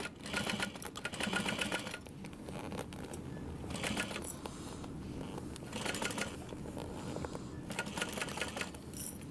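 A sewing machine bastes around a bulky vinyl bag with bound side panels. It runs in several short, quiet whirring bursts separated by brief pauses.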